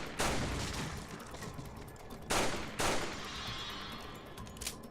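Pistol gunshots in the video game Resident Evil 4, three sharp bursts: one near the start and a close pair a little later, each trailing off into a lingering echo-like tail.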